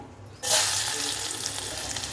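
A sudden loud sizzle as garlic drops into hot oil, then a steady crackling fry that continues on its own.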